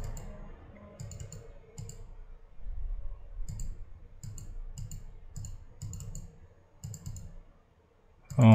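Repeated mouse clicks in Bitwig Studio 4.3.3 music software, short soft clicks in irregular pairs and bursts over a low background hum, close and moderately quiet, ending with a louder thump.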